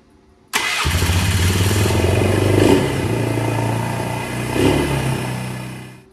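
A repaired four-wheeler ATV engine catches suddenly and settles into a loud, steady idle with a couple of brief swells in revs, heard close up with no talking.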